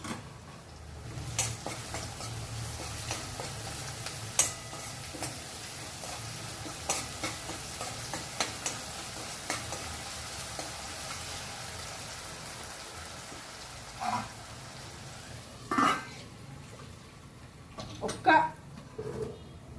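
Onions fry in a pan for a potato and mango curry, a low continuous sizzle broken by scattered scraping stirs and clinks, with some speech in the background.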